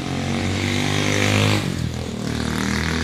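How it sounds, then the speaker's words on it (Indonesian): Loud motorcycle engines roar past close by on a roadside, droning steadily before the noise drops off and trails away into lighter road sound. "Sorry ya kalau banyak suara motor"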